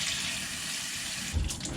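Tap water pours steadily in a sink while carbon filter media from a Fluval FX6 canister filter is rinsed, a close continuous splashing rush with a brief heavier splash near the end.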